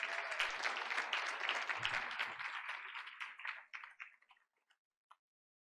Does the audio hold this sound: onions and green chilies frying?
no